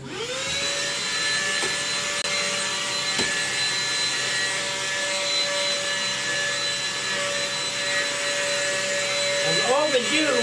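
A vacuum cleaner runs with a steady, high-pitched whining drone at moderate distance, held constant for about ten seconds, with a brief pitch wobble near the end.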